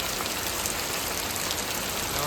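Heavy unseasonal rain pours down steadily in a village, a dense, even roar of downpour that holds at a constant loud level throughout.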